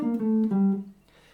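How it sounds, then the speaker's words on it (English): A short jazz phrase, the Unzipper banana cliche built on a major 7th shape, played as a few clear sustained melodic notes stepping downward, then fading into quiet room noise. "The first phrase that I'd like to teach you is called the Unzipper banana jazz cliche."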